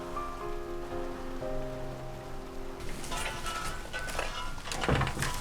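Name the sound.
rain falling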